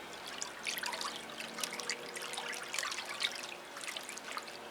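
Bleach solution being stirred around inside a bottle while an orchid is being repotted. The liquid swishes and trickles steadily and close by, with small splashy peaks throughout and no talking.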